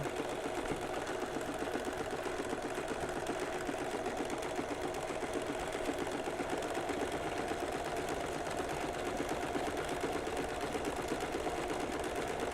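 A sewing machine steadily stitches pale blue ribbon onto a pair of pants, its fast, even mechanical chatter continuing unbroken for the whole stretch at a moderate, close level.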